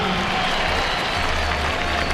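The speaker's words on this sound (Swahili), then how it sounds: "Tumpe makofi Jump Master." A crowd applauds at an air show as a parachute jump master comes in to land, steady dense clapping with a low rumble of wind and engine noise underneath.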